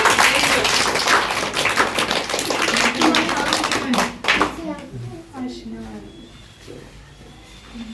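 Children clap together in a classroom, a loud burst of rapid overlapping claps that fades after about four seconds, followed by a teacher speaking.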